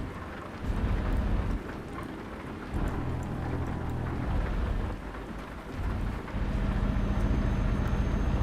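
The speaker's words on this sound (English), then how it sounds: "it's not that easy driving with this much rain" Heavy rain drums steadily around a truck driving in the Euro Truck Simulator 2 game, a dense wash of rain noise over a low engine rumble, swelling and dipping slightly, with no voices.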